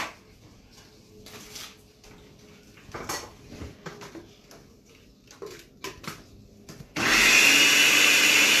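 Green onions are chopped with a knife on a cutting board in a home kitchen, giving scattered light taps and scrapes. Near the end a loud, steady blender roar suddenly starts.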